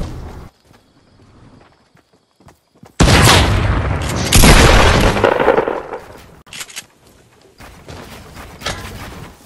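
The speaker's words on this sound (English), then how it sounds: "I'm shooting a rocket" A rocket blast in the video game Fortnite erupts as a loud, sustained explosive roar, followed by a second booming surge and then scattered thumps and crackles fading out.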